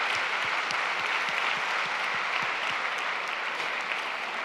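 A crowd applauds at an Italian youth festival event, a dense, steady wash of clapping that holds throughout with a few sharper individual claps standing out up close.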